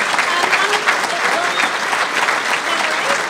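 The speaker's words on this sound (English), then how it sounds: "How about a big round of applause for this?" Applause from a City Club audience at an event with Chicago Blackhawks figures, a loud, dense burst of many clapping hands with faint crowd murmur and voices mixed in beneath it.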